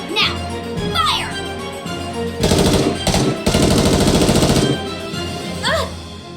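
Automatic gunfire in the anime-style shooter Goddess of Victory: Nikke, long loud rattling machine-gun bursts broken by short gaps, with high character voice cries mixed in before and after the firing.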